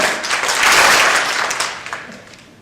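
An audience at a Toastmasters speech event applauds, with dense clapping that swells early, then thins and fades toward the end.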